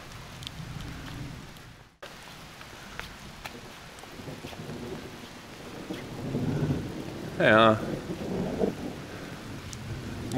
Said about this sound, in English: Most of the rain comes down there